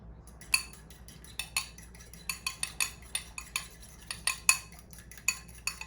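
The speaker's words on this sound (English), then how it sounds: "now let's mix it" A utensil mixes pumpkin muffin batter with eggs in a bowl, making sharp clinks and taps against the bowl in an irregular stirring rhythm, close and alone.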